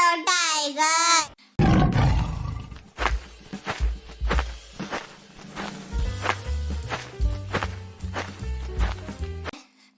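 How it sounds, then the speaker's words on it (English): A tiger roars in an animated children's phonics song, a deep rumbling roar after a short high musical sting, followed by thudding steps and a bouncy musical beat. "T for tiger."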